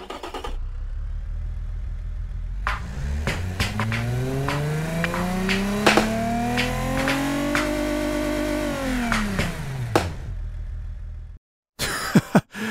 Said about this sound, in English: That's an unusual amount of frickin' exhaust popping.